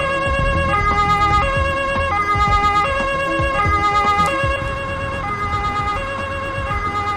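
A police car siren, just switched on, wails in a loud, steady two-tone pattern that alternates evenly, heard close up over a rumbling engine and road noise, with no talking.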